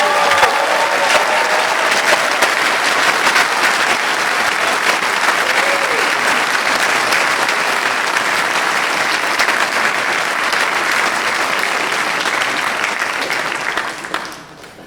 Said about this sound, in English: may I ask you to give a round of applause to our graduates